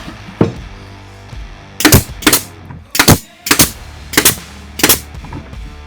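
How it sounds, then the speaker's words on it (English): Nail gun driving nails into a wooden bookshelf under construction, firing about seven loud, sharp pneumatic shots at irregular intervals, some in quick pairs, with faint shop noise between them. "your nail gun shot through"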